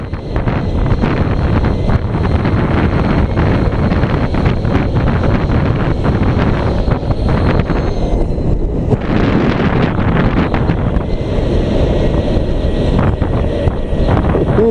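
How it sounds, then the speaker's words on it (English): Project LiveWire electric motorcycle under way, a steady loud roar of wind rush and road noise that masks any motor whir, continuous throughout with no talking. "kind of a whirling futuristic type of noise. And I guess it's not manufactured or anything, it is the actual noise of the bike"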